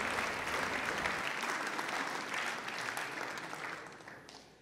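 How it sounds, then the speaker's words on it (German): Applause from the audience at the Munich Security Conference closing session, a full, even wash of clapping that gradually thins and fades toward the end. "Und das verdient Applaus"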